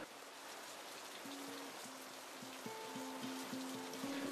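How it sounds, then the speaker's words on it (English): Steady rain falls in a soft, even hiss with a few scattered drops, faint and continuous throughout, while a simple low electronic melody plays underneath. "Sound of the rain wakes me up."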